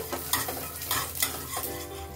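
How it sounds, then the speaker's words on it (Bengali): Peanuts fry in hot oil with a loud, close sizzle while being stirred, the scraping and bubbling rising and falling in quick strokes. "প্রথমে আমি চিনেবাদামটা ভেজে নেবো তেলের উপরে লাল করে এভাবে"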